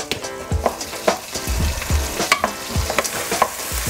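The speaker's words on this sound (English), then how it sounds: "So you just wanna break up the onions. We gotta cook them, we gotta brown them." Onions sizzle and fry in hot oil in a pan, with repeated stirring scrapes and soft clunks as they are broken up, close and steady with no voices.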